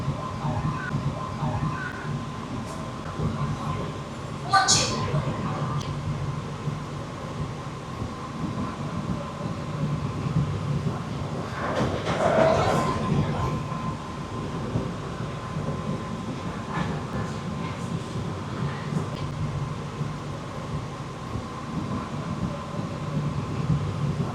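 The New Delhi–Sealdah Rajdhani Express rolls into Sealdah station with a steady low rumble and rail noise, plus a couple of brief sharper bursts, as people talk nearby.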